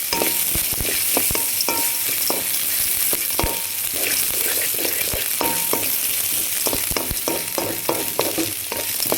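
Cashews sauté in a pan over a low flame with a steady crackling sizzle, punctuated by frequent sharp spatula clicks and scrapes against the pan, close and fairly loud, no voices.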